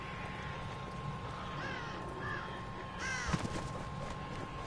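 In the horror game The Evil Within, a crow caws a few times in the distance, faint against a quiet, humming background.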